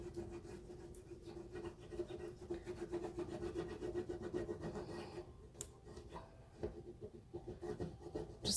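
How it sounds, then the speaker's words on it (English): A transfer is rubbed hard onto a window glass, a continuous, scratchy rubbing that goes on for several seconds, quiet and close, with no talking. "So you really have to rub really hard to get all of the details off."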